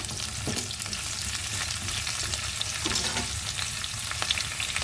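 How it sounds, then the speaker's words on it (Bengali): Mixed vegetables and pumpkin fry in a pan with a constant soft sizzle and occasional scraping stirs, heard close with no talking. "দেখতে পাচ্ছ মোটামুটি সবজিগুলো ভাজা হয়ে গেছে এবার অ্যাড করে দেব কুমড়ো"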